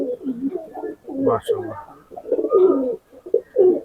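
A Pakistani highflyer pigeon coos in soft, repeated throaty phrases close by, with a voice speaking over and between the calls.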